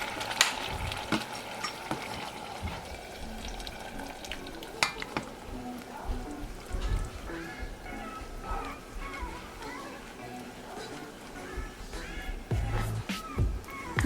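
Blended red chile enchilada sauce is worked through a strainer to hold back the seeds, giving wet scraping and stirring noises broken by metallic clinks, close and steady.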